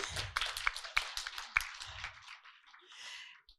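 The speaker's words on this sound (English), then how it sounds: "You give yourselves all a round of applause" Applause from a women's forum audience, a thin, quiet patter of separate claps with a few sharper hits, tapering off within a few seconds.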